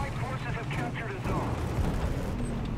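A tank cannon round bounces off sloped upper armor plate during a War Thunder ground battle, a dull booming impact with metallic clatter and rumbling engine noise continuing throughout, fairly loud and steady.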